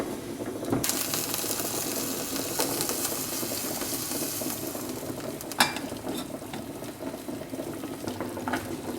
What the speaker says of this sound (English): the jar's been boiling away there for 3 or 4 minutes